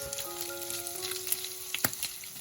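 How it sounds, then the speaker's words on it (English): Mushrooms sautéing with bacon and sausages in a pan for a quiche Lorraine filling: a soft, steady sizzle with a few light utensil taps and stirring clicks, fairly quiet, no talking. "I'm going to add the mushrooms and let them get cooked a little bit together with the bacon and the sausages"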